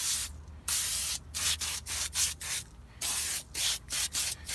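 An aerosol spray can lays a coating on a used auction car in a string of close, loud hissing bursts, roughly ten short sprays in an uneven rhythm with brief silent gaps between them.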